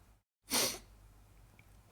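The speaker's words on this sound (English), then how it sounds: "I gotta sneeze." A single sharp human sneeze, close and loud, right after a brief silence, followed by quiet room noise.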